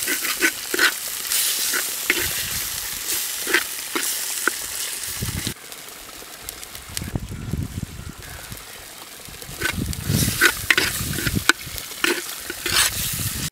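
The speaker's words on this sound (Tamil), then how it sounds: "நாலு தக்காளியை பொடி பொடியாக அரிஞ்சு மசாலாவோடு சேர்த்து நல்லா வணக்கிக்கோங்க" Finely chopped tomatoes frying with masala in a clay pot, a close, continuous sizzle with repeated scraping stirs and a few quieter pauses.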